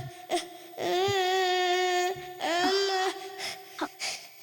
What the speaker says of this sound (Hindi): तुम्हें किसी बच्चे के रोने की आवाज सुनाई दे रही है?